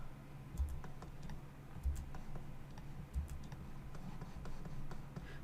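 Keys on a computer keyboard are pressed in a steady series of quiet clicks with light taps spread between them, set against a low hum, as shortcuts are used while modelling a 3D leaf.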